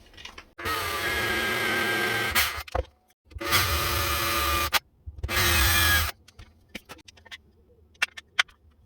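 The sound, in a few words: drilling shallow holes in birch plywood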